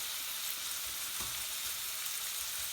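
Raw onions fry in a pan for a cumin-flavoured chicken curry, giving a steady, even sizzle throughout with faint stirring clicks.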